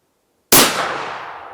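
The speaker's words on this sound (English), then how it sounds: "Let's shoot another one." A single loud, close rifle shot from a Blaser K95 Ultimate Carbon single-shot rifle, starting with a sharp crack and decaying through a long echoing tail, with no talk.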